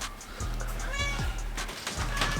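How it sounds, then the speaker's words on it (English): A domestic cat meows loose indoors, a few drawn-out mewing calls over a steady low hum, fairly close. "We have a cat loose in the room."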